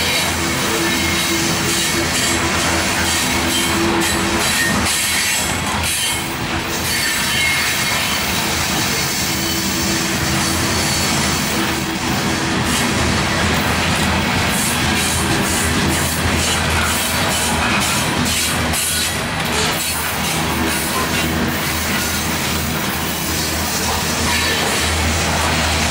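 A CSX freight train, led by three AC44 locomotives with an MP-series unit, rolls along a siding track, its loud continuous rumble and engine drone steady throughout with faint wheel squeal on top.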